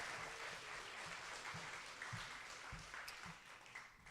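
An audience at a school spelling bee applauds, a soft, distant patter of many hands blending into a steady wash with faint low thumps, heard quietly throughout.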